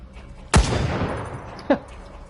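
Gunfire in the video game Resident Evil Resistance: a sharp, loud shot with a long decaying tail, then a second, lighter report about a second later, both close and clear.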